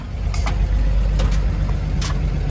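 A 1950 Chevrolet pulls away with a steady low engine rumble and road noise filling the cabin, a few brief higher clunks or squeaks passing over it, with no talking.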